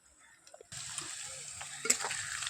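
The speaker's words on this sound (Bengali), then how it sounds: "পেঁয়াজটা সুন্দর ভাজা হয়ে গেছে" Chopped onions with ginger, cumin, green chilli and onion-garlic paste sizzle in a pan on an outdoor stove, a sudden steady frying hiss starting after a few quiet clinks, with a brief louder stir near the end.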